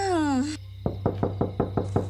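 Seven sharp knocks on a wooden door at night, evenly spaced and fairly close, following a brief voice at the start.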